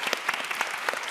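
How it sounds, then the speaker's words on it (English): Steady applause from an audience, a dense patter of clapping hands heard at moderate distance, no voices standing out. "have you guys give another round of applause to Dr. Smith"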